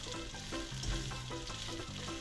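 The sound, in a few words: frying pasta with beef in a pan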